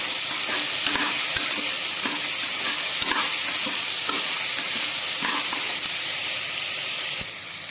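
Beans and carrot pieces are stirred through a hot pan for vegetable biryani, a steady sizzling hiss under repeated scraping and clinking of the spoon, close and continuous with no talking.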